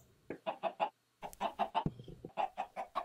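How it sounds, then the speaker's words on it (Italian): Chickens in Minecraft cluck in quick bursts of three or four, loud and close, with a short pause between groups and no talking. "Qui abbiamo un po' di polli."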